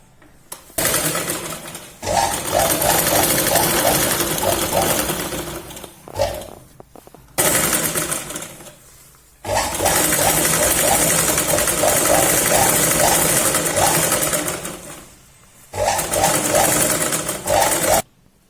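Electric sewing machine stitching a double line along the bottom part of a Punjabi salwar top, running loud and close in four rapid whirring bursts with brief pauses between them.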